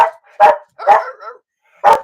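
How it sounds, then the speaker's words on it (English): A dog barks several times in sharp, loud bursts, close by and unevenly spaced, with no talking. "Now he's barking."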